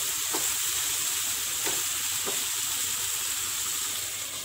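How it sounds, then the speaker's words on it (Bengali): Cauliflower florets fry in oil in a pan after potatoes, giving a steady, loud sizzle throughout with occasional soft scrapes of stirring and no voices. "ফুলকপিটা দিয়ে আমি আরও 2 মিনিট জাল করছি।"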